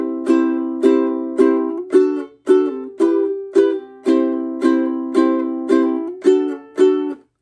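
Ukulele down strums with the fretting fingers lifting off the strings, so each chord is cut short with small gaps before the next strum, in a steady rhythm, close and clear.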